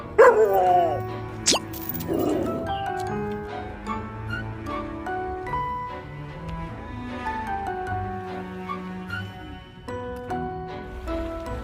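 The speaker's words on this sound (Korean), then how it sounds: "남성분들을 보면 짖는다 그러던데 그 말이 사실입니다" A dog on Pungdo island barks at men along a coastal path, its yips and woofs coming in a few bursts near the start, then fading under a steady outdoor background.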